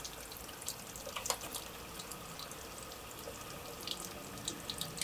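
Rusty water flushes out of the radiator of a Talbot Express motorhome in a steady, close gushing pour with small splashes and drips, continuous and moderately quiet, with no talk.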